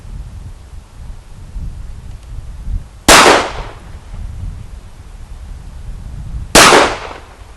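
Two sharp, loud gunshots from a Sig Sauer 1911C Scorpion pistol on a shooting range, spaced about three and a half seconds apart, each cracking out over quiet background rumble.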